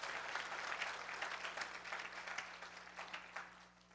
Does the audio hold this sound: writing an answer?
no